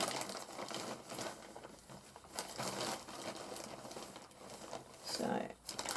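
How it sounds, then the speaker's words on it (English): A big plastic bag is handled and crumpled on a crafting table, a continuous crinkling and rustling with louder bursts as the plastic is shifted and folded, close and fairly quiet. "a big plastic bag."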